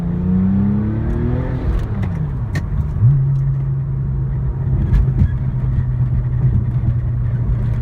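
A 2002 Porsche 911 Turbo with K24 turbochargers and an AMS wastegate, tuned to 530 horsepower and running race gas, drives at low speed with a loud, close engine drone that rises and then settles into a steady hum.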